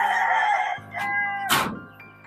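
Chickens on a farm yard cluck and call close by in a few short bursts, with a sharp squawk partway through.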